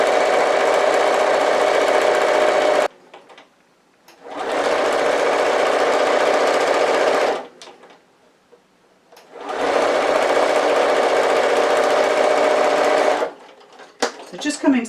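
A sewing machine stitching and back-stitching a seam on a tote bag runs in three loud, steady whirring bursts separated by near-silent pauses, with faint handling sounds at the end.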